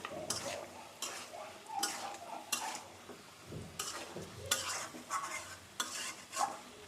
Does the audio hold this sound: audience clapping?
no